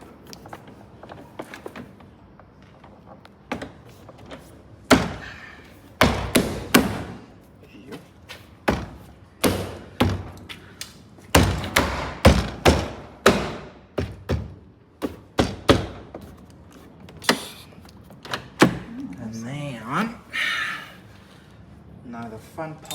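Repeated thuds, knocks and taps ring out as a door is worked into place on a crash-damaged BMW F20 M135i, the loud hits arriving irregularly and close by.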